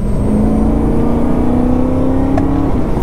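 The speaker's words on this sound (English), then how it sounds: "the S65 engine sounds amazing" A supercharged S65 engine in a 2011 BMW E90 M3 revs steadily upward on a back road, a loud continuous rising drone with a sharp blip near the end, no voices.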